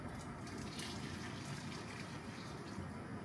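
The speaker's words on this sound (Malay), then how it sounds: "First masukkan air panas." Hot water pours steadily into a pot for a Samyang instant noodle stew, a continuous soft gushing and splashing that stays even throughout, fairly quiet and with no talking.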